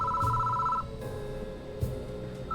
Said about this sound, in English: Suddenly a phone rings inside the security station.